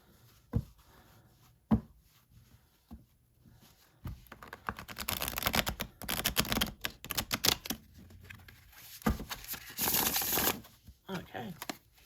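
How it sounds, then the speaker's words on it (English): Tarot cards from a Monsoon deck are shuffled by hand in quick, crisp riffling bursts, a few sharp snaps early on, then denser rustling runs in the second half, close and moderately loud. "from that just little bit of shuffling that I did"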